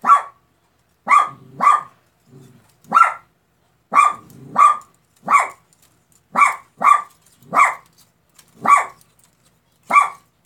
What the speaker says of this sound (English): Why do you keep barking, mister?